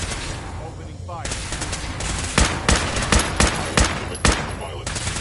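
Repeated gunfire bursts in Fallout 4 combat, several sharp loud shots in an irregular rhythm over a dense background of game noise and robotic chatter.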